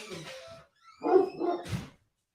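Close dog barks in a short burst: a couple of yips, a pause, then two or three louder barks and a whimpering tail before falling silent.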